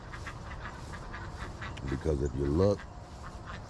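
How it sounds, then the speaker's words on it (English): Ducks let out in the morning near a pond, giving a short burst of loud, close quacks in the middle of a person's talking. "Let's let these ducks out first."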